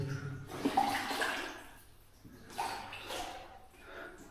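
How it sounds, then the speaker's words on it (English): Wading through murky flooded water in a Welsh gold mine: sloshing, swirling splashes in uneven surges as legs push through the water, close and echoey, with a few faint sounds in between. "I'm walking through this murky water"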